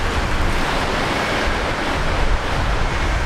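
Strong gusty wind buffets an outdoor microphone at Brisbane Airport as flights resume after Cyclone Alfred, a loud continuous broadband roar with slight surges and no voices.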